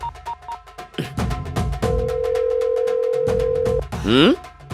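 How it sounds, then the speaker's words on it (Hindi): A telephone rings through a speakerphone in a tense drama scene, a steady tone heard between bursts of talk, with loud speech near the end. "सुन रही हो ना? फोन बज रहा है।"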